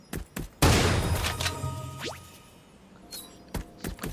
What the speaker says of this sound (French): Oh, le meilleur fusil à pompe.